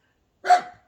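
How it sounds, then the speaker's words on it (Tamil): A single dog bark, close and fairly loud, short and sharp with a quick tail-off, with silence before and after. "நாய் சத்தம் போட்டு பாரு"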